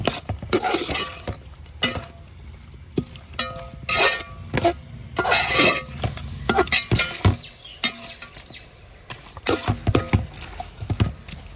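Chicken pieces tumbled into a pan of softened onions and stirred for a thick chicken stew, giving repeated clattering scrapes and knocks of spoon against metal with light sizzling, close and irregular.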